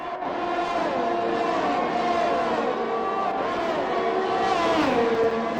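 Electric race cars in a sim racing game, a pack of engines whining steadily and loudly together, with overlapping tones rising and falling as cars jostle for position through the field.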